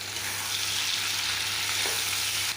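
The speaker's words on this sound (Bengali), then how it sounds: "এখন আমি চিংড়িগুলো একটুখানি ভেজে নেব" Shrimp fry in a pan with a dense, even sizzle that hisses loudly and close, steady throughout with faint stirring and no voices.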